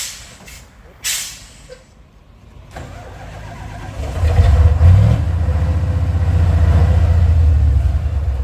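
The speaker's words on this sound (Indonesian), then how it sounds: "sudah dinyalakan bosku mobil truknya" A tanker truck stuck on an uphill road is cranked and its engine catches, building from a hiss and air-brake release into a loud, rumbling idle that keeps running, with people talking faintly nearby.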